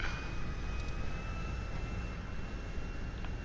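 A jet aircraft engine in a video game whines as a steady, continuous hum with a thin high tone running beneath it. It is fairly faint and there is no talk over it.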